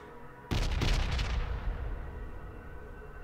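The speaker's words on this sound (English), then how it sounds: "Bombard tank, kaboom." In the strategy video game Pandora: First Contact, a bombard tank fires an artillery strike: a sudden heavy boom with rapid rumbling blasts that decays over about two seconds, with no talking.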